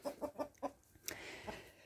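Hens cluck in a backyard chicken coop with a nesting box for eggs, a quick run of close rhythmic clucks followed by a sharper squawk and a softer call.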